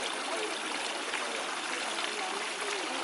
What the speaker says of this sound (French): On prend de l'eau, on se lave la main gauche